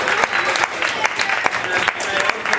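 A room full of people applauding new members at a 4-H livestock club awards night, with continuous loud clapping and sharp individual claps standing out, plus a few voices mixed in.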